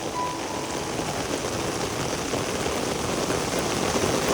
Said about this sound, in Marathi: कंटिन्यू पाऊस आहे